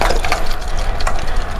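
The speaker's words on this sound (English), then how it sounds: "listening to the leaves crunch under my wheels" Close, continuous crackle of dry fallen leaves being crushed under rolling wheels on a path in St Augustine, with a few sharper snaps standing out from the steady crunch.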